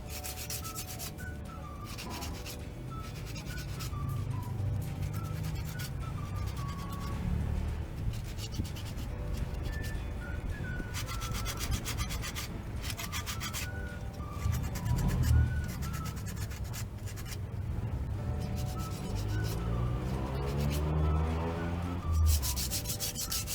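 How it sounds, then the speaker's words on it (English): A brake pad's friction surface is rubbed down with 400 grit sandpaper during disc brake squeal repair, making steady, continuous scratchy strokes, close and alone, with no talking. "Sand the surface of the pad using number 400 grit sandpaper."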